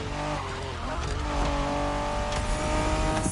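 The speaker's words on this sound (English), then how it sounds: "Are you familiar with the Honda you're driving? The NSX isn't your regular street car." A Honda NSX sports car from the 90s drives in The Crew, its engine a steady, loud, continuous drone with a layered harmonic tone that holds throughout.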